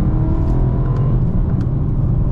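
A car engine hums and rumbles steadily from inside the vehicle, a low continuous drone with slight rises in pitch.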